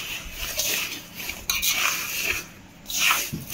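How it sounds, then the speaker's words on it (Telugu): A spoon stirs ghee into a semolina laddu mixture in a bowl, making close scraping and rubbing strokes in uneven bursts with short pauses, fairly loud and with no talking. "ఇప్పుడు ప్రజెంట్ అయితే నెయ్యి ఇందులో మేము వేసుకొని కలుపుకుంటున్నాము."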